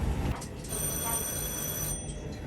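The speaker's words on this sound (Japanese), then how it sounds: "さあ、 ATS のベルが鳴動します。" ATS warning bell ringing inside the cab of a Hokkaido train, a steady high continuous ring over rumbling rail noise, moderately loud and alone without talk.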